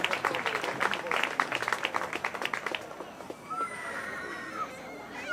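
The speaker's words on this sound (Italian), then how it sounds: "Un applauso a Luca Giglio" An audience at the Come Eravamo 2012 event claps for the second-place winner of a photography prize: a few seconds of moderate applause that thins out into quieter room sound with faint voices.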